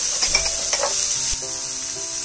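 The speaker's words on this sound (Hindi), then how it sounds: "सब्जियों को हम एक दो मिनट के लिए सोटे करेंगे" Chopped vegetables, including green capsicum, sizzle steadily as they are sautéed in a pan for street-style veg noodles, with a few scrapes and clinks of stirring.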